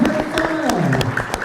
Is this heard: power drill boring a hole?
no